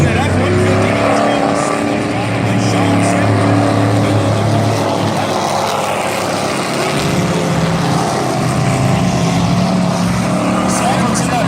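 Pickup trucks in a heat race, one of them a Ford F-150, roar through the first turn of a dirt track. The engines make a loud, continuous, overlapping drone throughout, and commentary runs over it.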